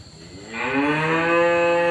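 A cow recovering from lumpy skin disease gives one long, loud, steady moo, close by, that swells and holds to the end.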